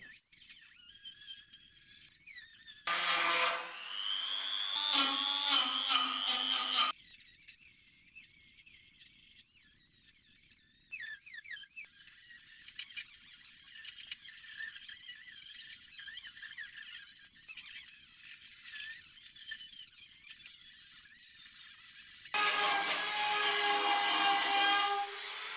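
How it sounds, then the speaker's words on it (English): Metal snips cutting rusted sheet metal out of the engine bay of a BMW E30 325i Touring, giving repeated squeaky, scraping cuts up close, louder bursts at the start and end, with no talk. "I decided to cut this rust out with metal snips."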